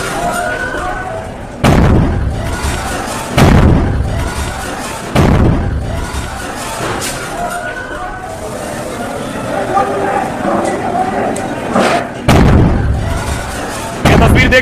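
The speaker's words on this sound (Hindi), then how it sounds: "एक एक करके जो धमाके आप सुन रहे हैं, ये सिलेंडर फटने के धमाके।" Several heavy explosions of gas cylinders bursting in a house fire boom one after another at irregular intervals, loud and nearby, with a crackling background and muffled voices between blasts.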